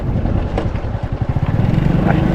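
Strong wind blows at an outdoor fishing spot on a sunny day, buffeting the microphone with loud, low, gusting rumbles that pulse unevenly throughout.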